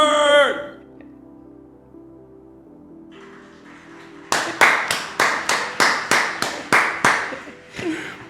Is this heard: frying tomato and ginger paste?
no